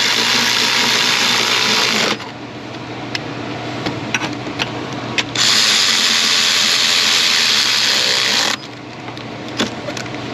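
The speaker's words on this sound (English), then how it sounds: "So let's get our throttle body tightened down here." A power tool whirs in two sustained bursts with a quieter pause between, tightening throttle body bolts on a Ford F-150 5.4 3-valve engine, with faint clicks and taps in the lull.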